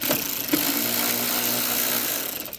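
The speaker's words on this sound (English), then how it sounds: "there's a couple little screws up here. So we'll just drive those guys in." A power driver whirs steadily for about two seconds, driving small screws into steering system parts on a Chevelle in a garage, ending with a brief click and spin-down.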